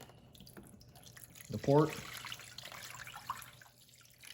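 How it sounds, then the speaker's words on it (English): Water poured from a faucet-like stream into a cooking pan around pork, a brief splashing gush midway, under someone speaking. "So what you wanna do is put the water all the way around"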